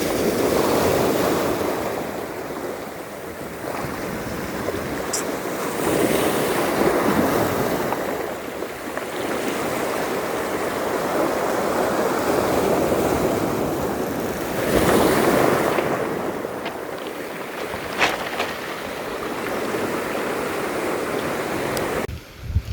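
Sea waves break on a beach at Dikapanikian, surging and washing in slow repeated swells with steady wind rushing across the microphone.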